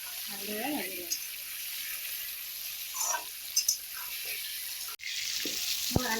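Long-cut potato strips fry in oil with turmeric and salt for an Assamese pigeon curry, a constant sizzling hiss broken by scraping stirs and utensil knocks, while someone talks briefly over the cooking.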